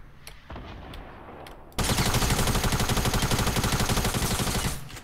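Rapid SMG gunfire from the video game Fortnite: a burst starts abruptly, then a loud, sustained stream of fast, evenly spaced shots keeps going for about three seconds before cutting off, with faint scattered shots before it.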